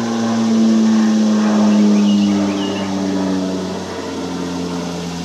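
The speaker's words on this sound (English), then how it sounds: "Sorry, I'll let the airplane go over." An airplane passes overhead outdoors, a steady low droning hum that swells and fades gradually over several seconds, with no talking.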